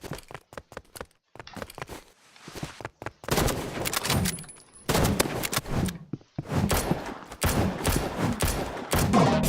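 Gunfire from a weapon in a Roblox shooting game, a burst of rapid sharp shots followed by dense clusters of louder shots with brief gaps between volleys.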